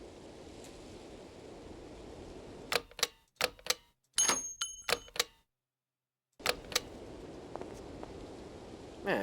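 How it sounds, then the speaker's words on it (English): Bullet casings drop in the video game Syberia as a burst of sharp, typewriter-like metallic clicks, roughly six in quick succession, then a brief silence and a few more clicks over a soft, surf-like ambient hiss. "Man, kid keeps dropping those bullet casings."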